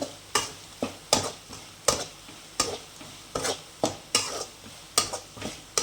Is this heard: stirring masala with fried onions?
yes